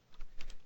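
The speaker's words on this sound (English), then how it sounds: "So now we can type whatever we want, and it just works just like regular like typing things." A computer keyboard is typed on while a vim editor is in insert mode, giving a handful of quick, light key clicks close by in under a second.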